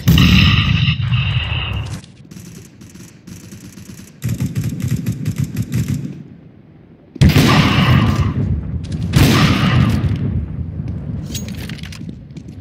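Rapid gunfire, a grenade blast and a flashbang pop in a tactical shooter game, with loud bursts of shots, sharp detonations and short quieter gaps between them, close and harsh throughout.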